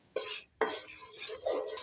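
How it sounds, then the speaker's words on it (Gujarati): Scraping and stirring in a pan, a spoon dragging through thick syrup with clinks against the metal, in short bursts with brief pauses. "તેને સતત હલાવતા રહેશું જેથી કરીને ગોળ તળીએ બેસી ના જાય"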